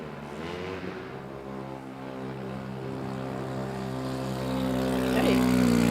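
A modified compact ute idles at a motorsport jamboree with a deep, harmonic engine note that swells gradually louder, then rises in pitch near the end as it revs.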